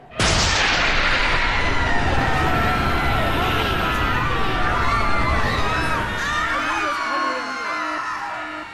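Police sirens closing in during a chaotic scene in the video game Halo 3 ODST, wailing loudly over a dense crowd of shouting and screaming voices that fill the whole stretch.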